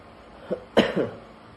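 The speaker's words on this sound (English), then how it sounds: "I'm so sorry, I got a little cough today." A single short cough, preceded by a faint throat sound, close and fairly soft with no talking.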